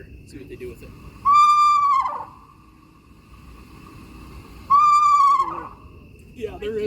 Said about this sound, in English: We're gonna try another screech owl here.